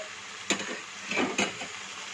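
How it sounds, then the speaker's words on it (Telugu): Green chillies frying in a pan for a broad bean curry: steady soft sizzle with a few sharp scrapes of a spatula stirring against the pan. "పచ్చిమిర్చి అనేది మంచిగా స్మెల్ అనేది పోయేంత వరకు కూడా మంచిగా వేయించుకోవాలండి"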